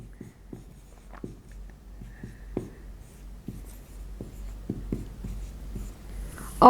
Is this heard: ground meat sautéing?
no